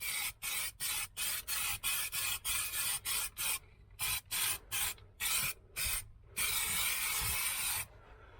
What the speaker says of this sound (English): Fixing to put some primer on it.